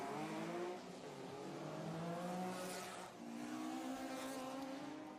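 Ford Escort race car on a street circuit during a GT race, its engine revving hard through the gears with rising and falling pitch as it accelerates past, fairly loud and continuous.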